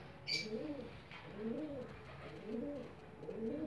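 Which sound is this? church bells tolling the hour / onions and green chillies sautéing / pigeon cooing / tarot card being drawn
pigeon cooing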